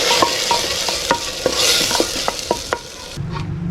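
Hot tempering hitting a pot of whole masoor dal sets off a loud, steady sizzle, with sharp spoon knocks against the pot every half second or so as it is stirred, cutting off abruptly near the end.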